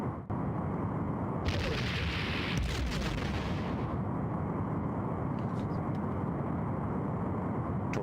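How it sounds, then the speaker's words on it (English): A torpedo launch in the space combat of the Star Trek: A Final Unity video game: a loud, sustained rumbling whoosh with a bright rushing burst lasting a couple of seconds, then fading into steady low engine drone. "Torpedo away."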